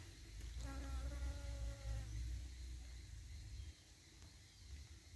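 A bee buzzes while gathering nectar from a flower, feeding from the underside rather than the front; a steady, close droning hum with a brief higher-pitched whine partway through, heard alone.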